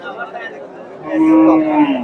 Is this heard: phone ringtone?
no